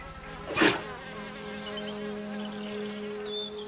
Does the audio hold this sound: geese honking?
no